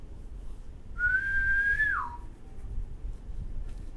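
A single clear whistle blast rings out for about a second, holding a steady tone before dropping off at the end, with quiet background and no talk.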